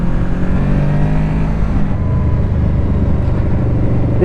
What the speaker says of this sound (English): This bike sounds awesome.